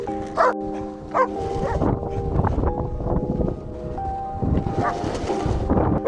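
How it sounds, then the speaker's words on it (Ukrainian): A dog barks a couple of times early on, short sharp yaps over steady wind rumble and low background noise, on a ski slope at Drahobrat. "Зустрівся дорогою ще один фрірайдерний пес"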